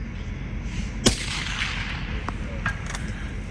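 A single sharp rifle report cracks out at an outdoor NRL Hunter precision shooting match, followed by fainter distant shots, over a steady bed of wind and outdoor background noise.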